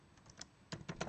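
Keys tapped on a computer keyboard while entering USDCAD forex levels, a short, faint burst of a few clicky keystrokes, the last several coming in quick succession.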